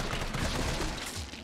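A brief, loud burst of rapid gunfire from Resident Evil 3 Remake, with shots packed densely together and little pause.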